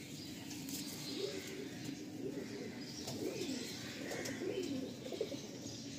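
Red Giribaj pigeons in a loft coo softly and repeatedly in low rolling phrases, with a few faint chirps and light wing rustles layered over a steady hiss of background noise.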